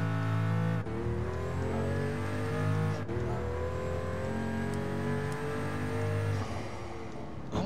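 A race car engine in Gran Turismo Sport revs hard through several rising pulls, with sharp breaks between gear shifts and dump valve hisses, loud and near with no speech.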